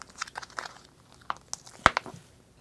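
Silicone duplication mould around a dental model being gently peeled open after its container was sliced, giving a run of soft crinkling, tearing snaps close by, with the sharpest rip near the end.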